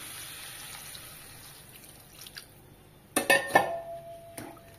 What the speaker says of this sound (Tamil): கலந்து விட்டுட்டு இதுக்கு ஒரு 2 டம்ளர் தண்ணி சேர்த்துக்கலாம்.